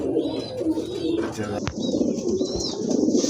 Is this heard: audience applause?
no